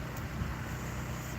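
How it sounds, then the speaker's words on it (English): Steady breeze buffets the microphone on Fort Myers Beach, a continuous low rumbling wind noise that holds at an even level throughout without any talk. "It's a little breezy"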